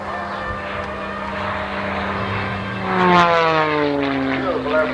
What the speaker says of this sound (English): Beautiful airplane with lots of power, rolling way up